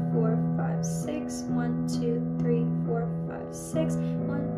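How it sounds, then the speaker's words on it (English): A low piano bass note is struck repeatedly in an even pulse with chords ringing above it, clear and close in a Billie Eilish "Happier Than Ever" piano tutorial. "our bass note we're going to play 12 times, so that's what this is going to sound like."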